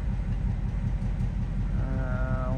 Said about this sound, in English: I'm gonna give it a couple revs for you guys.